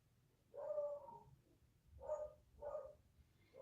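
A small dog barking indoors, three or four short barks spaced about half a second to a second apart, faint and somewhat distant in a quiet room.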